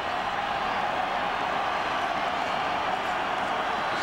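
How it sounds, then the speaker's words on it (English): Sellout football stadium crowd of split Colorado Buffaloes and Colorado State Rams fans, a distant, steady roar that hangs evenly in the background without distinct cheers or claps. "listen to the crowd here"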